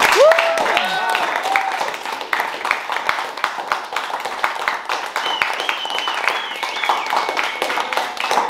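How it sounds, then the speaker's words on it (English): At a jazz performance, an audience applauds with a steady patter of claps across the whole stretch, while a voice talks over it and occasional whoops and cheers rise above. "Give a big round of applause for Mr."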